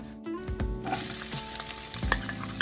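Ginger sizzles and crackles in hot cooking oil in a pan for sour tamarind chicken soup, a loud close steady fry with spatula stirring clatter and no talking.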